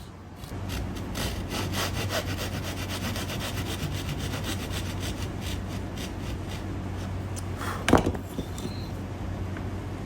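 A handsaw cuts through wooden top braces on an acoustic guitar build, a steady rhythmic back-and-forth rasp close by, ending with a single knock.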